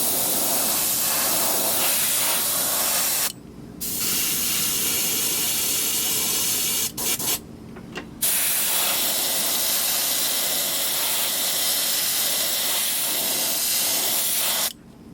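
An airbrush sprays fluorescent orange paint over a fishing lure in a steady, close, loud hiss that stops briefly a few times between bursts.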